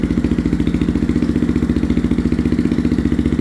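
A Yamaha Raptor 350 ATV engine fires up on the first start with no choke and settles into a steady, loud, rapid thumping idle that holds evenly throughout.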